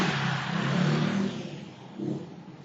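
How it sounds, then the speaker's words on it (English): A vehicle engine drones past, loud at first and then receding, with a second swell of engine noise near the end, all fairly close and without speech. "That's a motorcycle or some shit"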